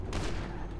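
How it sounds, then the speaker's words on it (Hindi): A brief burst of close, dense gunfire in GTA 5, sharp and rumbling for under a second. "ओ भाई फायरिंग शुरू हो गई"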